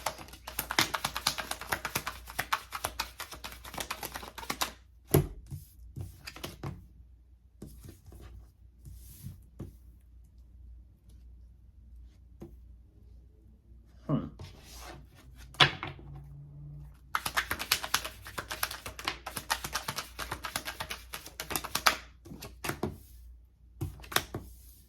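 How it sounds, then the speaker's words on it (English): Tarot cards are handled and shuffled in dense bursts of quick riffling taps and flicks, with quieter pauses between the bursts. "I'll get the cards out first"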